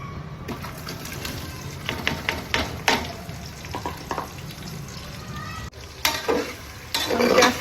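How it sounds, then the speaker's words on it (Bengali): Onions frying in oil with whole spices like cardamom, bay leaf and cumin in a pressure cooker, a close steady sizzle with stirring clatter and scrapes, louder bursts as ingredients drop in, a voice talking intermittently over it. "তেলে দিয়েছি গোটা গরম মশলা এলাচ তেজপাতা গোটা জিরে এখন পেঁয়াজ দিয়ে দেবো"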